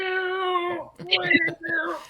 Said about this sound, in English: I deeply apologize if you can hear my cat calling for food in the back